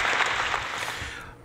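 Hands clapping in brisk, steady applause for a motorcycle dealership manager in Recife, close and fairly loud, fading slightly toward the end with no talking over it.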